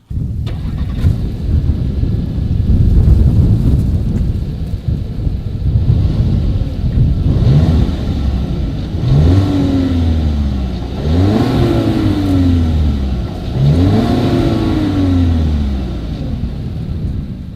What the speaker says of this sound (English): Here is the 2020 Volkswagen Tiguan exhaust clip.